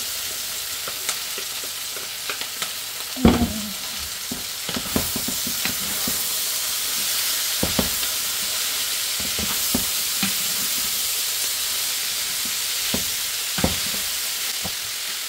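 Meat sizzles steadily in a hot pan with paprika, chili flakes, rosemary and turmeric nearby, a continuous close frying hiss broken by a few sharp utensil knocks and stirring scrapes.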